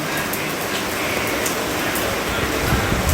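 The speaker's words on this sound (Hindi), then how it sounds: "और भी तेज़ बारिश, और भी तेज़" Heavy rain pours down in a dense, continuous roaring hiss that stays loud and even throughout, with no voices heard.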